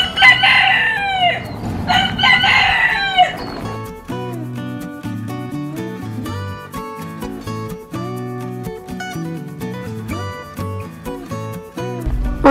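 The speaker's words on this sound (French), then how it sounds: "on se fait réveiller par un espèce de coq qui hurle, mais littéralement toutes les 5 secondes" A rooster crows loudly and close at the start in New Zealand, followed by several clucks, then a steady musical backdrop carries on alone.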